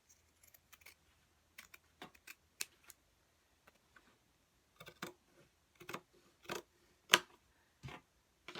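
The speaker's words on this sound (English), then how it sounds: "we're going to go ahead just like we did before, and we're going to cut these out" Scissors snip through fabric pieces in quick separate bursts of crisp cuts with short pauses between them, close and fairly quiet against an otherwise still room.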